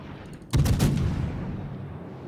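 A sudden heavy warship gun salvo in World of Warships, one loud booming blast that rolls and decays over a couple of seconds, preceded by a quieter background of battle ambience.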